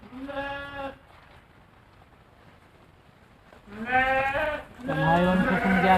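Sheep and lambs bleating nearby at a farm, with a short call, a quiet gap of low background noise, then louder overlapping bleats from several animals.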